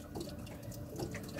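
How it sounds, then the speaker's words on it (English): Water trickles quietly and steadily, like a faucet running into a sink, during a boat fishing trip, faint and continuous. "That water trickling."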